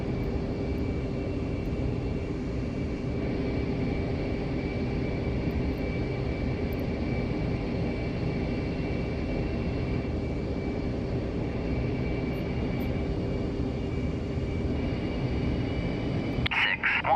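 Air Force One's jet engines roar steadily during takeoff in the DCS flight simulator, a loud, constant, even drone with a faint high whine that holds for the whole stretch.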